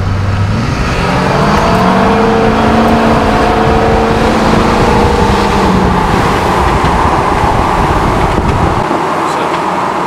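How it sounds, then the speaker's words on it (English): A diesel pickup truck rolling coal is floored hard, its engine note climbing steadily in pitch and staying loud and close for the whole stretch before easing off near the end. "So actually, I'm just going to stomp on it."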